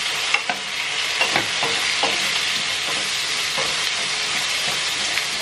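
About a kilo of pork ribs browning in a hot pan, with a steady close sizzle broken by scattered scraping and clinking as they are stirred. No one speaks.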